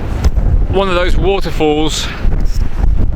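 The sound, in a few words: strong wind whipping through gates in a storm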